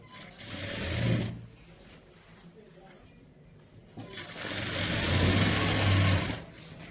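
A sewing machine stitches a pant pocket in two loud whirring runs, one near the start and a longer one later, with a quieter stretch between them. A voice can be heard speaking during the pause.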